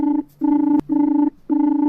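A telephone rings in repeated electronic bursts as an air-conditioner installer is called, four loud, close trills with short gaps between them.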